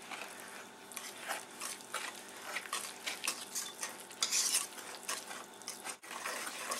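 Pumpkin pie filling being mixed in a bowl, with repeated soft wet scraping and stirring strokes in an irregular rhythm, close but quiet, with an occasional light clink of a utensil.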